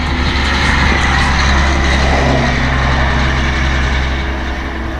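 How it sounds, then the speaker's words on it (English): A farm truck driving past a rural house, a loud, close, low rumbling engine roar that holds steady and then eases slightly as it moves along, with no talk. "I got a neighbor driving by with a farm truck."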